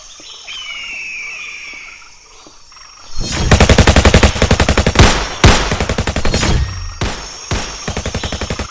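A machine gun fires loud, rapid bursts in a jungle, breaking out after a few seconds of birds chirping and repeating in several close, rattling volleys.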